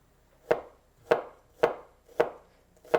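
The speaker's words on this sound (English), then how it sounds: "Okay, so we're going to slice garlic." A knife slices garlic on a cutting board in five crisp, evenly spaced chops about half a second apart, close and clean against near silence.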